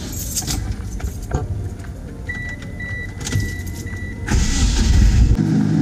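Keys jangle and click in an ignition near a Mitsubishi DSM car with a 4G63T turbo engine, then the engine cranks and catches, settling into a steady loud rumble.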